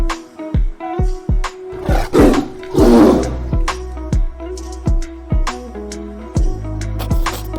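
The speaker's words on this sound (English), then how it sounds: "T for tiger." A tiger roars loudly and close in a series of drawn-out, rough calls, punctuated by sharp percussive hits and a repeating musical backing.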